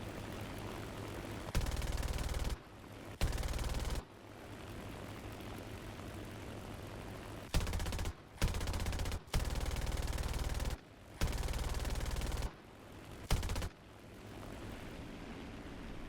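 Nacelle machine guns on a Heinkel He 115 C-1 floatplane in War Thunder fire in several loud, sustained bursts of rapid gunfire, each lasting about a second, with a steady propeller engine drone between them.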